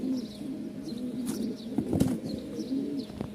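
Pigeons in a loft, including White Top Bokhara, black beauty and Jacobin birds, coo softly in repeated low phrases with occasional wing flaps and light clatter, close by and without talk.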